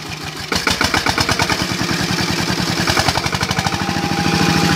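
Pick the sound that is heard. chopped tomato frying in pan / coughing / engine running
engine running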